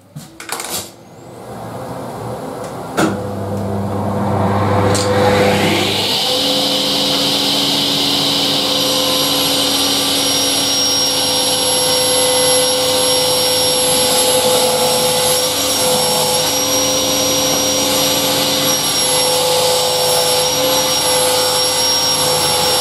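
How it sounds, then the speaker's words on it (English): Table saw cutting a molded hollow-core door panel to 28 mm: the motor spins up after a few knocks, then holds a loud, steady, high whine for the rest of the clip, with no talking. "We shall now run that through the saw table at 28mm"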